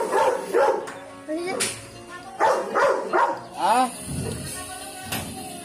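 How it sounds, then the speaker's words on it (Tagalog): Large dogs bark in repeated loud bursts close by, mixed with yips and whimpers, while people talk in between. "Malalaking aso dito."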